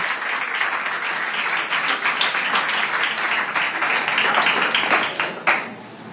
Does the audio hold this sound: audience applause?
yes